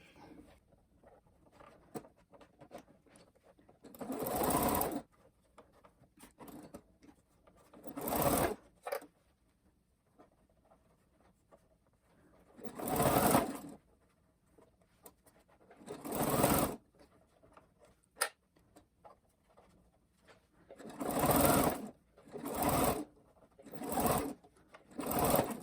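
A sewing machine stitches the seam of a slipper in several short, loud whirring bursts of rapid needle patter, separated by quiet pauses with small handling clicks.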